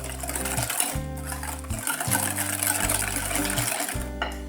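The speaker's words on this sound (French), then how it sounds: "Je mélange bien les deux poudres, puis je les ajoute au jaune d'œuf. Je fouette la préparation." Egg yolks whisked with sugar and cornstarch for crème diplomate, a steady mechanical whirr in repeated bursts of about a second each with short pauses between, fairly loud and close with no talking.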